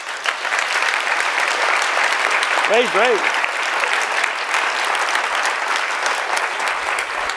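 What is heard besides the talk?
audience applause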